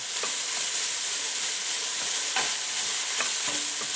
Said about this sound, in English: Kind of saute these, cook these a little bit, and as it's doing it, it's picking up some of that stuff that's on the bottom of that pan there.